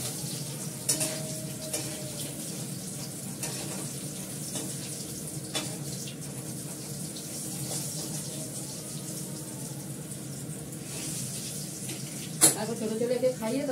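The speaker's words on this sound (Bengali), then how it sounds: "আলুটা লাল করে ভেজে নিলাম।" Potatoes frying in a pan in a home kitchen, a steady soft sizzle and hiss that runs throughout at moderate level, with a few light clinks and scrapes of stirring.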